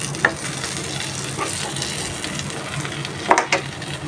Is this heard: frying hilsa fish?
yes